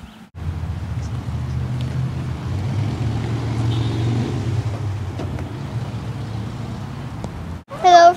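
Steady low rumble of a car driving along a road, a continuous engine and road drone heard from inside the cabin, ending with a brief higher sound.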